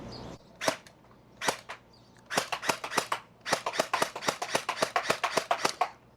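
An XSHOT Hyper Glow NightStrike toy blaster fires semi-auto at close range, sharp snapping pops at first spaced apart, then in a quick irregular run of shots in a quiet room.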